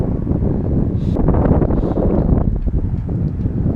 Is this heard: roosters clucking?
no